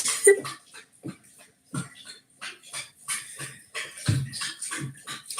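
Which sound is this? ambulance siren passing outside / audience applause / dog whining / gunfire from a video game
dog whining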